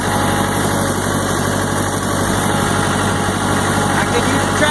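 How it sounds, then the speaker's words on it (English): A tractor engine idles steadily with a constant low rumble and vibration throughout, close and loud, with no talk over it. "first time driving a tractor."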